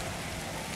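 Heavy rain pours steadily at an animal welfare centre in Guadalupe, a dense, continuous hiss of drops striking surfaces with no pauses or voices.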